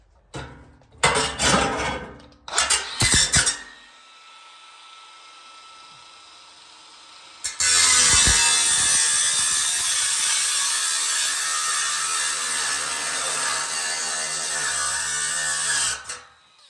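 A grinder works on leftover flooring material, first in a few short, harsh bursts with quiet gaps between them. It then grinds in one loud, sustained, gritty whine that lasts several seconds before cutting off.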